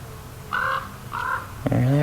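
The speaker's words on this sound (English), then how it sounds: "that crow again." A crow caws twice in clear, separate calls near a neglected 1974 VW Thing, followed by a voice speaking briefly over faint background noise.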